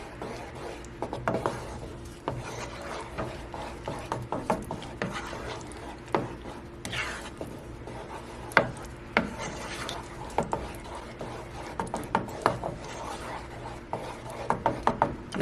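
A spoon stirs vanilla and caramel into a thick homemade caramel icing in a bowl, giving soft scraping and rubbing strokes with light clicks, close and steady, with no talking.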